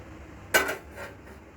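A spoon clinks against a bowl while raita ingredients are stirred together: one sharp metallic knock followed by a couple of softer scrapes, close and fairly quiet.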